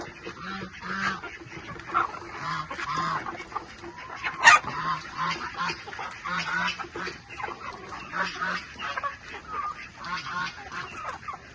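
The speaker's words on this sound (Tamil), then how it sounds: "வாத்தெல்லாம் தண்ணிக்கு போயிடுச்சு" Ducks quacking and honking in short repeated bursts, fairly close, with a sharp loud squawk near the middle and faint farmyard noise throughout.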